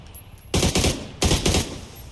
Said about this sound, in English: Oh, gunshots out to our right.